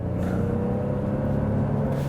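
A 2016 Ford F-150 half-ton truck with the 2.7 EcoBoost engine drives along, giving a steady low engine rumble and hum heard from inside the cab, with no talk.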